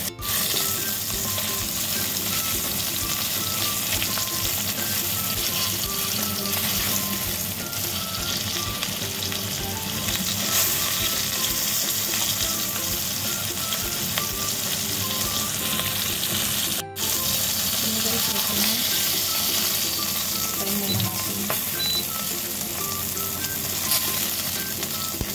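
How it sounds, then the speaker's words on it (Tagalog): Galunggong fish frying in oil, a steady loud sizzle and crackle running continuously for the whole stretch, close and uninterrupted, with no talk. "Fry natin hanggang mag-brown."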